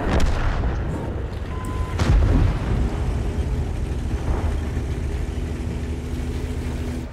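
Heavy cannon fire in a tank video game, a big boom near the two-second mark over a constant loud rumble of battle and engine noise, with smaller thuds scattered throughout.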